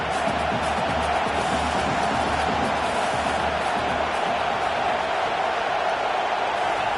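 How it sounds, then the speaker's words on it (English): Home crowd at a college football game roaring steadily throughout, a dense wall of cheering with no breaks, loud and sustained. "how nice is it to have the home crowd going absolutely bananas?"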